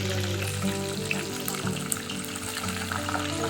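Chicken frying in hot oil gives a steady, dense sizzle that continues without a break, close up, with no voices.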